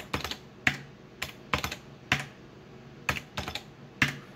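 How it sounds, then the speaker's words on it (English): Price keyed in on an IBM SurePOS ACE register keypad: a run of crisp plastic key clicks in small bursts, close and fairly quiet, with no talking. "I can either hit it, type the price, press enter, or I can just type the price and press meat."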